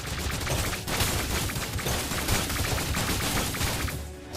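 Dense, rapid bursts of gunfire crackle almost nonstop through a video game match, with overlapping shots filling the whole stretch at close, loud level.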